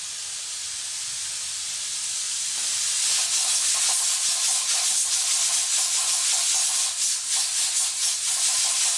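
A pressure canner fitted with a new seal vents a steady, broadband steam hiss that grows louder after about three seconds and then holds with slight flutter, close and alone.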